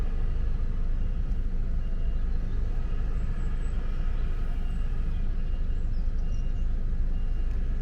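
A lorry reverses in a street, heard as a low steady engine rumble with broadband road noise throughout, close and constant, with no clear beeps or talk standing out.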